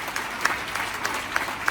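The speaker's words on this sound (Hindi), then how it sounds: "उनके लिए भी एक बार जोरदार तालियां हो जानी चाहिए।" Crowd applause at a political gathering, a steady wash of clapping with a few sharper individual claps standing out, moderately loud and continuous over the short stretch.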